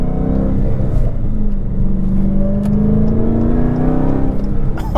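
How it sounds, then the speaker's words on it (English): A 707 hp Dodge Challenger Hellcat accelerates hard from inside the cabin, its exhaust opening up into a loud, continuous rising roar that climbs steadily in pitch. "it's supposed to open up obviously when you're getting on it. Yep. So you hear more of the exhaust."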